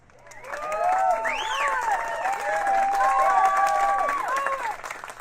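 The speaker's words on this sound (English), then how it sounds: "Applaud if you agree." A crowd of Rush fans at a backyard pool party gathering applauds, mixed with loud whoops, whistles and cheering voices that rise quickly, hold steady and ease off toward the end.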